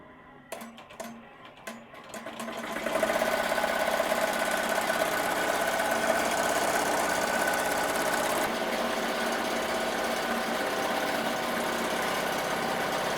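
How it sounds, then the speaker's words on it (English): Embroidery machine sewing a 5 mm satin covering stitch for a double sequin appliqué design, starting after a few clicks and then running as a steady, loud, rapid mechanical chatter for about ten seconds without talk. "we are going to do the covering stitch, which is a 5 millimeter satin stitch"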